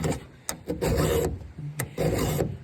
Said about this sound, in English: I usually try to take the same amount of strokes on every tooth